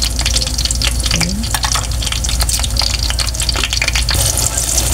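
Eggplant sizzles in hot cooking oil with a loud, dense crackle and constant spatter of pops filling the whole stretch, close and continuous with no talk.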